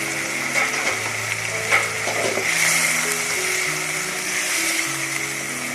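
Chicken frying in a pan for a bottle gourd and eggplant curry, a steady close sizzle with a few soft stirring scrapes and a faint background hum.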